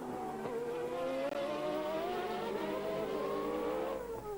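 Formula One race cars from 1990, a Benetton and a Ferrari, roar past in a continuous high-pitched engine wail, loud and steady with rising and falling tones as they race among slower cars; no voices.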